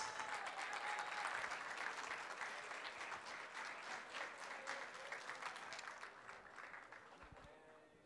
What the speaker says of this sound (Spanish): Y que se escuche el aplauso fuerte